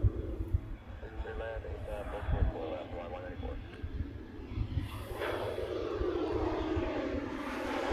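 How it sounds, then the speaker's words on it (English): A Hawaiian Airlines airliner arriving from Sydney at Honolulu airport gives a steady distant engine roar that swells slightly, with someone talking over it throughout. "Next one coming in is a Hawaiian."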